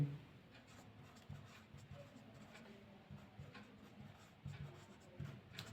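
Quiet pen strokes on paper as class marks are written into a statistics table, soft intermittent scratching in short bursts over low room noise, close and faint, no talking.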